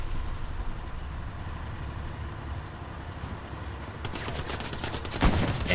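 Gunfire bursts and a grenade blast from the World War II shooter game Hell Let Loose, heard faintly at a distance, rising into a rapid volley near the end over a low rumbling game background.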